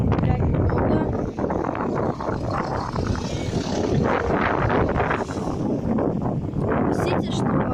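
Strong gusts roar continuously across the microphone on an outdoor dog walk, a loud, dense buffeting rush with brief dips, steady throughout and close.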